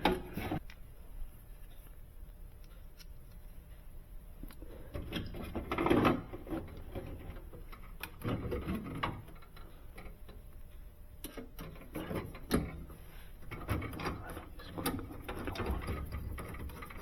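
Sub-Zero 315W wine cooler motor being slipped back into place, a run of close, scattered mechanical knocks, ticks and scrapes with a few louder bumps, including one around the middle, and no talking.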